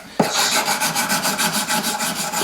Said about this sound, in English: Go to a finer sanding stick just to get those edges nice.